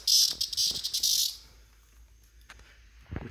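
Cicada held in a small dog's mouth, giving off a loud, harsh buzzing burst for over a second before it cuts off, leaving near quiet with a few faint clicks.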